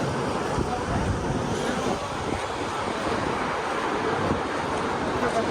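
Surf washes onto the sandy beach at the Lido of Cefalù, Sicily, as a steady broadband rush mixed with wind buffeting the microphone. The sound is moderately loud and unbroken throughout, with no distinct single wave breaks standing out.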